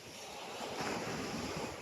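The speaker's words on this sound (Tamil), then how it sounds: "மாலை நேரத்தில் கடற்கரை ஓரம் காற்று வாங்குவது அவ்வளவு சிறப்பானது." Sea waves wash steadily onto a beach in the evening, with a constant windy roar that stays even and broad with no voices.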